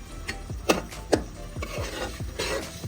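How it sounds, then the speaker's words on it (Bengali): Raw fish is sautéed in a pan, with a series of distinct scraping and stirring strokes against the pan at an uneven rhythm. A light sizzle runs beneath the strokes, close and moderately loud, with no voices. "মাছগুলো আগে একটু কষায় নিতে হবে"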